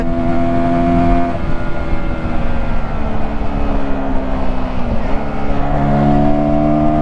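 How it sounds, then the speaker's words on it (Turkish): Voge R125 125cc motorcycle engine revving hard under acceleration, a loud, steady, buzzing drone that dips briefly near the end and then picks back up, with no talk. "Açtım gazı. Bak direkt kesiciye giriyor."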